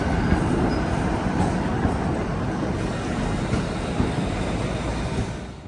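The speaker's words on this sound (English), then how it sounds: "I have to say I love these trams. Going all over the city." Trams roll through the city streets of Sofia, Bulgaria, a steady close rumble of wheels on rail with faint squeals, continuous and loud with no talking.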